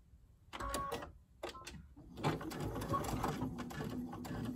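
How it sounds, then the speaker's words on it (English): A sewing machine back stitches both ends of a cord on a simple fabric mask. Short mechanical whirring bursts start it off, followed by a steadier close run of stitching, with no voices. "Kind of going over the stitching I just did."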